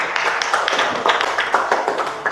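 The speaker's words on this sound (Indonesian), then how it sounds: "Tepuk tangan dulu." Students in a classroom clapping briefly, a short burst of quick hand claps close by, dense and slightly uneven, without talk.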